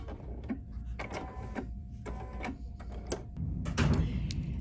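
An embroidery sewing machine stitching a design, a close, rapid mechanical ticking and clacking with a low motor hum beneath, running steadily throughout.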